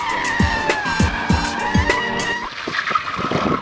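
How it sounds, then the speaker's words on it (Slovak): A car skids into a spin under hard braking on a test track, tires squealing in a series of rhythmic screeches over a steady engine roar, loud and close, with no talk. "Stačí len prudko zabrzdiť a okamžite sa dostávame do rotácie."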